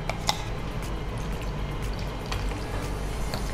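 Cooking oil is poured into a pan to temper peanut chutney, giving a soft, steady liquid pour with a faint hiss that runs continuously at low volume.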